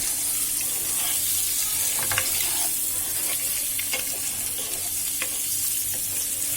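Eggs fry in a pan with turmeric for a chickpea-dal egg dish, giving a steady close sizzle broken by occasional scraping clicks of stirring. No one speaks.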